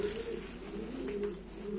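Soft, steady cooing of Nail Kara tumbler pigeons, low murmuring calls repeating close by over a faint constant background hiss.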